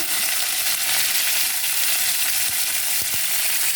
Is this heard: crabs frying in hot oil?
yes